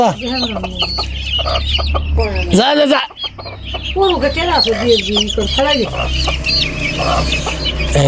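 Chickens cluck and squawk busily in a village coop, loud and close, with a voice shooing them and other talk mixed in throughout.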